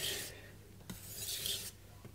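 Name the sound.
knife being sharpened on a Morihei whetstone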